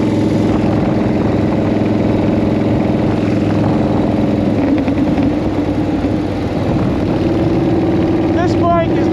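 A 1940 flathead motorcycle engine drones loudly and steadily while the bike is ridden, its low, even rumble filling the whole stretch, with a brief voice rising near the end.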